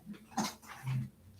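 A hyper large dog on a grooming table lets out a few short whimpers and whiny yips close by, rising in two brief bursts with no talk.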